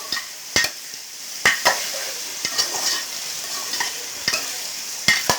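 Potatoes and taro frying together in oil in a pan, a steady close sizzle broken by repeated sharp clinks and scrapes of a spatula stirring against the metal.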